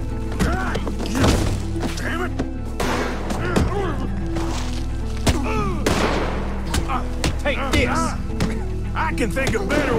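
Gunfire in Red Dead Redemption 2 cracks out in repeated heavy shots and booms at an uneven pace across a firefight, while voices talk over and between the shots.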